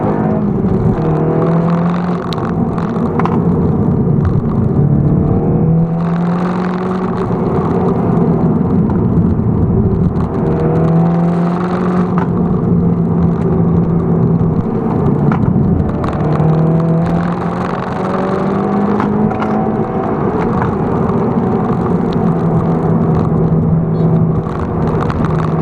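A 2019 Seat Leon Cupra R hot hatch accelerating hard, heard from inside the cabin as a loud, steady engine drone. The pitch climbs through each gear and drops back between shifts, with no talking.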